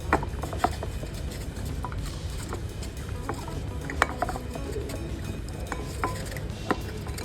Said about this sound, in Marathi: असा छोटा ग्लास घ्यायचा एक, त्यात असा बर्फ टाकून घ्यायचा.